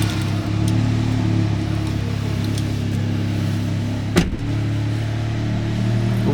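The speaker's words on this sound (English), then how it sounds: "demonstrate that the car starts and idles without any warning lights" An Audi S3 8V engine runs at a steady, even idle with a low constant hum, close and moderately loud, and a single short knock partway through.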